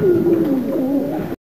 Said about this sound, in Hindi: भाई इधर से भी कबूतर निकाल रहे हैं।